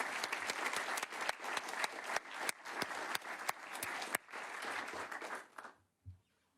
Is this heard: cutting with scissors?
no